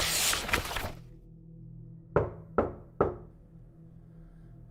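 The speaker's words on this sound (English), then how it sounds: "tune in for the knock at the door" Three sharp, evenly spaced knocks strike a wooden front door, close and distinct, following a brief burst of broadband noise with no talking.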